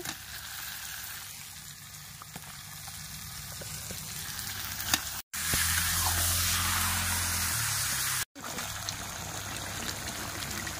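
Kadaknath chicken pieces going into a pan of cooked-down spices, with a loud, hissing sizzle that swells when the meat goes in, broken by two sharp cuts, over a steady trickling, bubbling bed.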